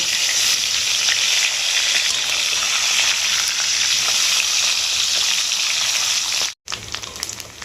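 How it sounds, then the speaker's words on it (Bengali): A fish head frying in mustard oil in a kadai, a loud, steady, close sizzle and crackle that runs without pause, broken only by a brief silent cut near the end before the hiss resumes. "মাছের মাথাটা এইভাবে লাল লাল করে ভেজে নিতে হবে"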